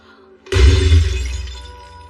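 A supposedly precious thousand-year-old egg breaks with a sudden loud shattering crash. A heavy, boomy impact follows and rings out and fades over the next second and a half, after a quiet musical lead-in.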